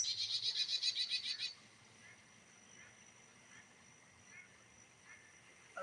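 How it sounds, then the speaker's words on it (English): Birds calling on a small farm, a quick run of loud, rhythmic chirping calls in the first second and a half, then softer scattered calls over faint background noise. "You can hear all the birds. You can hear some birds."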